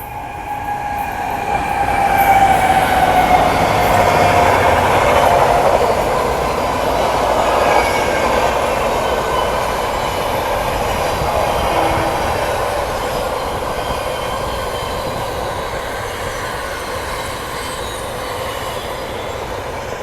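The Shiv Ganga passenger train passes on a parallel track at New Kanpur railway station, a loud, continuous rumble of wheels and rolling stock with a thin metallic squeal, fading slowly over twenty seconds.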